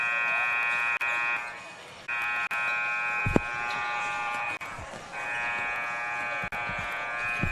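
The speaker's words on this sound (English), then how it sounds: "3-minute buzzer sounds." A gym buzzer at a high school JV basketball game between Columbia City and Homestead blares in long, loud, sustained electronic tones, cutting off briefly and then resuming several times over a hum of crowd noise.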